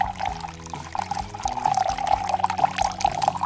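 Water running steadily from a sink tap in a home kitchen, a continuous close rushing stream with a steady hiss that holds for a few seconds, with no talking over it.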